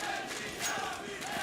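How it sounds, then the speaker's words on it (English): Esports arena crowd at a CS:GO match cheering for NaVi, a distant, diffuse roar of many voices that stays fairly even across a short stretch. "the crowd are getting behind NaVi"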